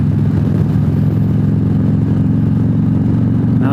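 Freewheeler trike motorcycle leaning through corners at speed, a steady loud engine drone with a low harmonic rumble and wind roar that holds throughout, close and unbroken.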